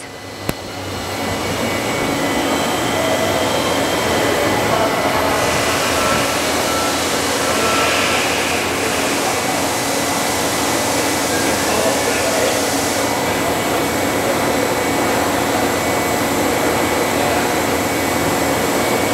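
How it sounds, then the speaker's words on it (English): A Grote 33-foot conveyor running on 3-phase 240-volt power, a loud, steady broadband whir and hum that holds for the whole stretch, with a voice speaking over it. "Today we're cycling your Grote 33-foot long conveyor."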